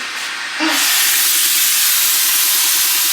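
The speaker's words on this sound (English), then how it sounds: "Can you see the steam coming off of that?" A handheld steamer lets out a loud, steady hiss of steam that starts abruptly after a brief quieter moment and holds at full strength without a break.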